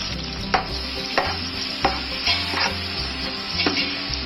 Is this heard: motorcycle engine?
no